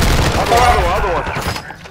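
Dense bursts of rapid video game gunfire crackle loudly and close, with a voice calling out over the shooting before it fades.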